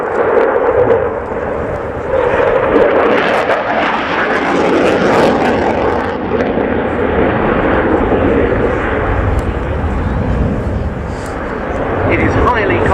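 A French Air Force Dassault Rafale C fighter jet performing its flying display at the RIAT 2016 airshow gives a loud, continuous roar that swells and eases slightly while holding steady throughout.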